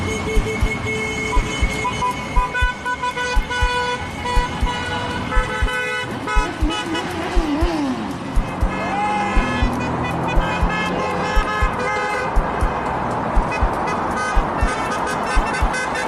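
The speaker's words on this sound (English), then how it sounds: "On top of the bridge, honking their horns." Car horns honked by passing motorists on a bridge in Epping during a protest, repeated short toots and longer blasts coming over a constant traffic roar, some near and some farther off.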